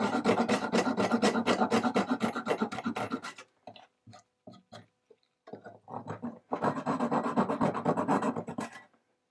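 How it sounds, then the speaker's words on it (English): A handsaw flush cutting wooden pegs on an antique tea cart, rapid rasping strokes in a steady rhythm, close and clear, pausing briefly into a few scattered scrapes before the sawing resumes. "what I'm going to do is flush cut these and then drill them out"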